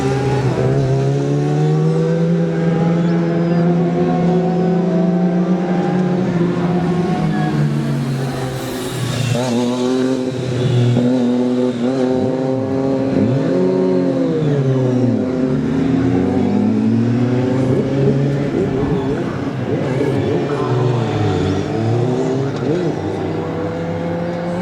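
A Yamaha racing motorcycle, number 63, at the Manx Grand Prix Senior Race, loud and close, its engine note climbing through gears and swooping past with a falling pitch, with another bike faintly following.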